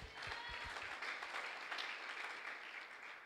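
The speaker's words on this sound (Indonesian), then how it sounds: "Kita berikan tepuk tangan bagi Tuhan." A congregation applauds together at a youth church service, a steady dense wash of clapping that holds at an even level throughout, heard from a short distance without talk.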